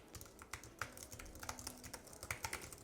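Fingers type steadily on a tiny computer keyboard, unboxed with a Mac mini M1, producing close, quiet clicks in an irregular rapid patter.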